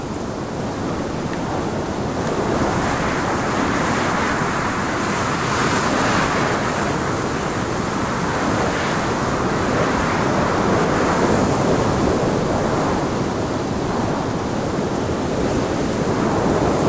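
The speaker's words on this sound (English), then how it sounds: "What a wind. It's too windy." Wind in the video game Sons of the Forest during a snowy winter stretch: a steady, loud, broadband roaring gust that swells and eases slightly throughout, with no voices.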